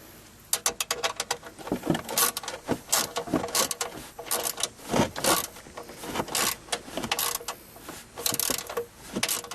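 A wrench tightening down a new vehicle fuel filter, with a run of close, irregular metallic clicks and ratcheting bursts, stopping and starting, with no talk.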